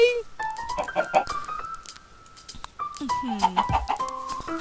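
Minecraft chickens cluck in short bursts through the scene while a player talks excitedly over them.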